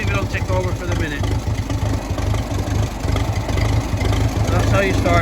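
A Ferguson TE20 grey tractor's diesel engine idles nearby with a steady low chugging rhythm while a person talks over it.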